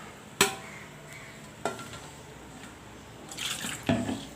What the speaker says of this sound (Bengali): দেখুন, পরিমাণ মতো জল দিয়ে দিচ্ছি।